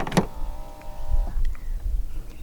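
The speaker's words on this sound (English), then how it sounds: "To lock the car, press the black button on any of the front door handles." Pressing the black button on a front door handle locks a 2020 Hyundai Santa Fe 2.2 CRDi AWD: a sharp click followed by a short electric whir of the locking mechanism, then a faint low mechanical rumble, near and quiet.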